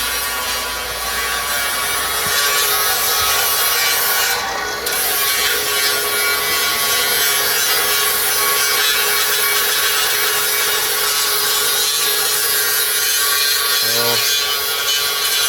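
Sheet-metal tin work is cut on a C6 Corvette Blazer build in a shop, with a loud, continuous grinding and rasping cut that runs almost unbroken, with a brief dip partway through.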